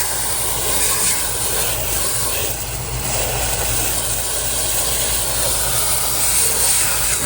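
Water sprays from a low-pressure hose nozzle onto the grille of a Tesla Cybertruck, a steady, broad hiss that stays loud and close from start to finish with no talking.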